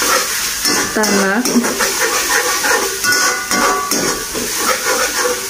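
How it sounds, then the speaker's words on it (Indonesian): Shallots and grated garlic sautéing in a pan, a steady sizzling hiss that runs throughout, with a voice speaking over it. "Kita masukin aja semua. Langsung kita tumis sampai wangi"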